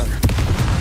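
A Confringo spell blasting in the middle of a Hogwarts Legacy duel, heard as a short, sharp explosive crack over a low, constant rumble of combat.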